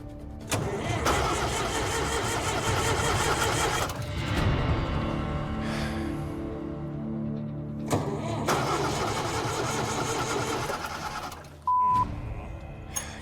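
A heavy mining machine's engine at a gold mine turns over and catches, settling into a loud, steady rumbling idle that holds for several seconds, with a second start-up surge midway and a brief tonal beep near the end.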